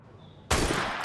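A sudden loud gunshot bursts out in Assassin's Creed Syndicate after a quiet moment, a sharp broadband crack with a brief rumbling tail, heard alone.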